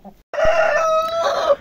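A young light blue Brahma rooster gives a single loud, close crow that lasts over a second, preceded by a brief soft cluck.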